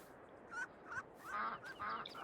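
Ducks in the farming video game Farming Simulator 22 give a string of nasal honking quacks, several close calls in quick succession over a quiet background, with no talking.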